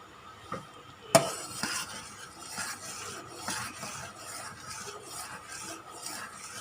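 Split mung bean dessert (tao suan) simmering in a pot while being stirred, soft repeated scraping against the pot over a gentle bubbling hiss, with one sharp clink early on.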